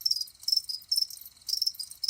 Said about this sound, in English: This can be achieved by recording some cricket sounds from nature.